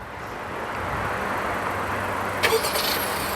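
A Honda CR-V Special Edition engine starting by remote start turns over and settles into a steady, smooth idle heard from nearby, with a brief clatter near the end.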